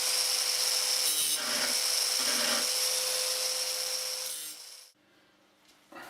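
A Husqvarna CTH 151 mower blade is sharpened with a steady, loud abrasive grinding rasp that runs for several seconds, then cuts off, leaving a quieter tail.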